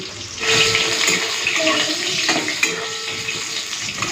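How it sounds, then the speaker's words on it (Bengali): Pointed gourd (potol) frying in a pan gives a steady, close sizzle with occasional stirring scrapes and a brief run of tap water, with no talking. "এই যে পটলটা ভেজে নিয়েছি"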